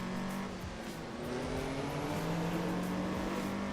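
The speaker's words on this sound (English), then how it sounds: "we're in the 1986 Porsche 944 Turbo S" A 1986 Porsche 944 Turbo S drives at Laguna Seca, its engine giving a steady, moderately loud drone that rises slightly in pitch, heard alone without talk.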